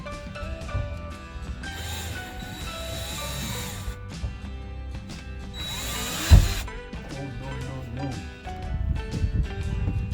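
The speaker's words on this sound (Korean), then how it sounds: "조심해서 뚫어주도록 하겠습니다." A power drill bores a hole for a Maxxfan roof vent install in two separate bursts, a longer whir followed by a shorter one, with a sharp knock between them over quiet background.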